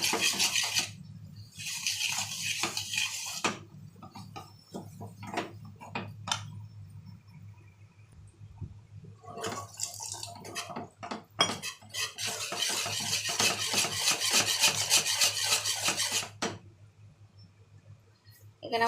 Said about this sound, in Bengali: এবার জল দিয়ে দিয়ে আমি ভালো করে আস্তে আস্তে এটা মিক্সড করে নেব।